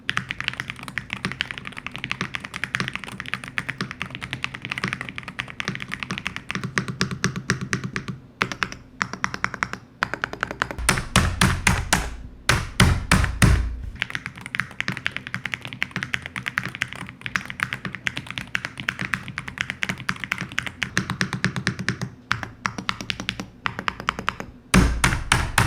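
Rapid, continuous clacking of keys on a VM75 HE mechanical keyboard with magnetic switches, close and crisp, with brief pauses and a few heavier thocks, no talking.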